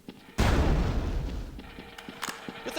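Explosions in the video game Quake II Ground Zero: a sudden loud booming blast with a rumbling, crackling tail that fades over two seconds, followed by a few smaller pops and bursts.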